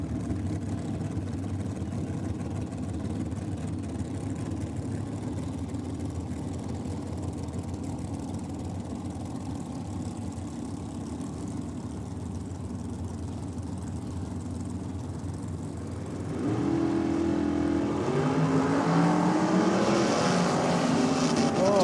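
A drag racing car with a 400 cubic inch Chevrolet engine in the altered class rumbles and idles at a distance on the track, then the engine note rises louder and rougher near the end.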